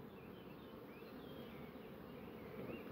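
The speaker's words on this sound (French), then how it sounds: "Les abeilles." Honeybees at a hive during a spring colony inspection, a dense steady buzz from many insects close by, even and continuous throughout with no voices.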